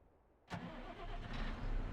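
Tractor engine starting up in Farming Simulator 22: a sharp cranking onset followed by a steady low engine rumble that settles into a building idle, close and alone.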